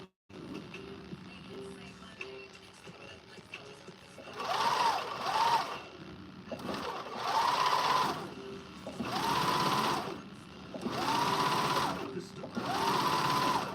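A sewing machine stitches a zigzag seam in several bursts of steady, close, rhythmic whirring, each lasting a second or two and separated by short pauses, with a quiet voice talking between runs.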